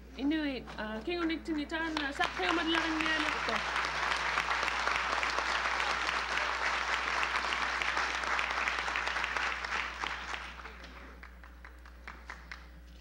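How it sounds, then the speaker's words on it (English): Sustained audience applause at a community presentation marking an Inuit milestone, steady and dense for about ten seconds before tapering off, with a voice briefly audible at the start. "while everybody was clapping"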